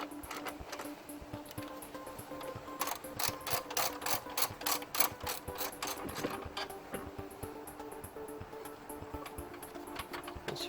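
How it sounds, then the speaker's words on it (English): A ratchet clicks rapidly in steady runs while loosening a 10mm nut on a car battery bracket, a close, dense metallic ticking that continues for several seconds over a faint background hum. "We need to remove this 10mm nut right here and that one as well."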